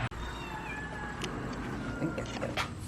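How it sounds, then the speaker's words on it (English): A tiny kitten meowing in a thin, high, wavering cry that runs through the short stretch, close and fairly faint, with soft background noise and a few brief knocks. "So here is one of the little kittens."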